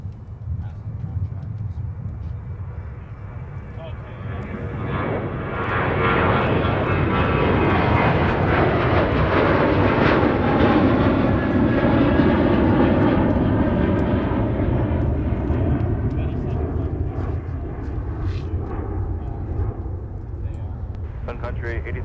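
A jet airliner roars through its takeoff roll at Minneapolis airport, a broad steady rumble that swells to a peak midway and then slowly fades, with air traffic control radio chatter under it.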